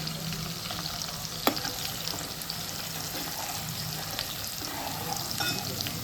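Chicken and turmeric roast in a pan with a steady sizzle and frying crackle, broken by a few sharp scrapes and taps from stirring, close up and moderately quiet.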